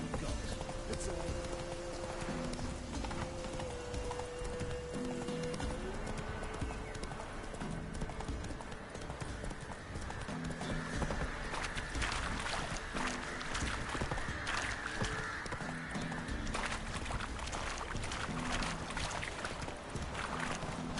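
Rhythmic clip-clop of a horse's hooves from The Witcher 3, steady and close, with splashing water and game ambience and music tones underneath.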